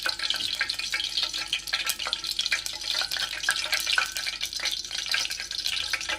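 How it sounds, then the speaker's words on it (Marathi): Hot oil in a cooking pot crackles and sizzles steadily as a bay leaf goes in, with a bright continuous hiss and scattered sharp pops for several seconds and no voices. "तेल चांगलं तापलं आहे. आता आपण त्यामध्ये तेजपत्ता टाकूया"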